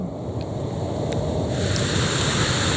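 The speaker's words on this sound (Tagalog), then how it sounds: "Pagpasensyahan nyo na medyo maingay kasi ragasa yung tubig ngayon dito sa may Palacol River." Roaring, rushing floodwater of the Palakol River in Floridablanca, Pampanga, swollen by monsoon rains, a loud steady broadband torrent filling the whole clip with no voices.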